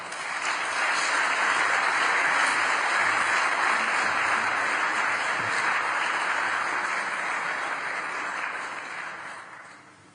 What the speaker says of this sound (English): an applause for my speech